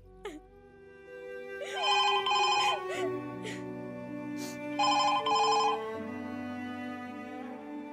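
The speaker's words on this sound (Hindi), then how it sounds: "फिर एक फोन कॉल ने मेरी जिंदगी ही बदल दी।" A telephone rings in two bursts of trilling electronic bells, loud and close, over a steady background of music and low tones.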